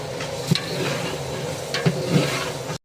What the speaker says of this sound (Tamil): தக்காளியை போட்டு அதையே நல்லா வதக்கணும்